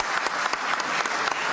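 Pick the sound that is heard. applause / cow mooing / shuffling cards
applause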